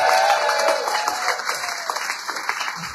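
A rally crowd for a Texas House candidate applauds loudly, dense clapping that gradually thins into scattered claps toward the end.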